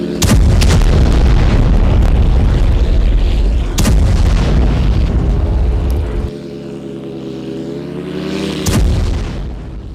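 Explosions at a Russian army camp and weapons depot after a Ukrainian attack, several heavy booms in loud succession over deep rumble, followed by a droning engine-like tone and another blast near the end.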